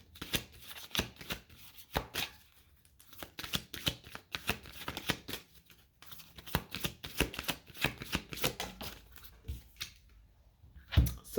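An oracle card deck being shuffled by hand in repeated riffling bursts of crisp paper flutter and slaps, close and clear, with brief pauses between runs and no talking.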